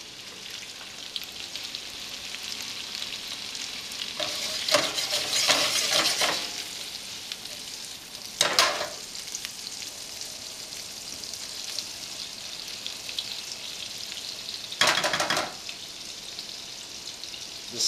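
Shrimp and garlic frying in a pan, a steady hiss of sizzling with louder bursts of crackle and spatter as food is stirred and shifted.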